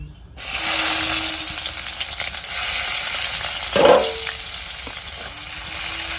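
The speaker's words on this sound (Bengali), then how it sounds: "এখন এই পেঁয়াজগুলো তেলে দিয়ে মাংসটাকে দিয়ে দেবো" Onions and mutton hit hot oil in a pan with a sudden loud sizzle that holds steady, with a brief clattering stir near the middle; close and continuous, with no voices.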